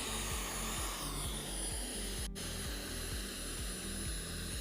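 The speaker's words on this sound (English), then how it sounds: "Turbine spluttering a little bit, but it's okay." A model jet turbine in an F-22 Raptor model warming up, a loud steady roar with low pulsing surges that splutter unevenly about every half second, plus one sharp click midway.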